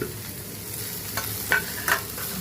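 Potato pieces frying in a pan alongside okra, a close continuous sizzle with a few sharper stirring scrapes and spatters near the middle and end, and no talking.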